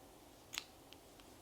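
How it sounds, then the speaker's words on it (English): Scissors snip through crochet yarn with one crisp, close cut, followed by two fainter clicks of the blades in an otherwise quiet room. "I'm going to hop back to this other end and go ahead and cut this yarn"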